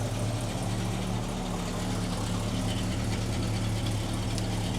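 An unrestored 1972 Cadillac Eldorado with a 500 cubic inch engine idles with a steady, deep low rumble, continuous and close with no change in pace.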